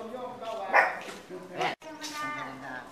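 Dogs bark and yelp in the grounds of a Buddhist temple in Khon Kaen, Thailand, several close overlapping barks over a few seconds amid a busy background, with voices mixed in.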